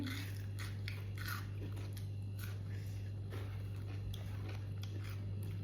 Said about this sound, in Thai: มากินต่อคงกินข้าวเหนียวแซ่บ